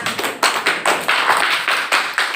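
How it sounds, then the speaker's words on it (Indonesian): A classroom of primary-school children clapping for a student group, rapid overlapping claps in loose bursts that swell and fade, loud and close. "Nah, tepuk tangan untuk kelompok 6."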